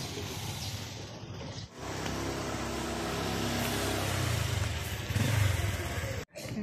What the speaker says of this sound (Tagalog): Ito na yung motor ni Father.